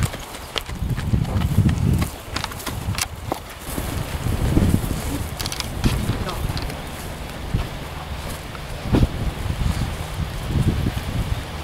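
A horse is led out of its stall at a ranch. Hooves clip-clop at close range over rustling and a steady breezy background, with scattered knocks and bumps throughout.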